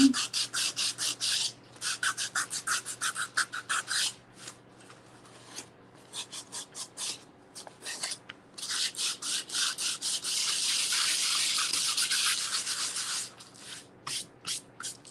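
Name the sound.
sanding a Mod Podge coated craft piece by hand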